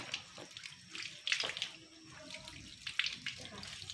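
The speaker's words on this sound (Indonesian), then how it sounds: "Disiram lagi, jangan diperas dulu ya." Water is poured over cotton cloth during a classroom demonstration, a soft splashing trickle that comes in uneven bursts, with faint voices in the background.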